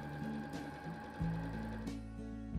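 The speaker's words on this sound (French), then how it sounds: "je pique à 5 mm de part et d'autre de la ligne de couture" Domestic sewing machine stitching jersey fabric for a long-sleeved top, a steady close whirring run with short pauses and restarts, heard alone.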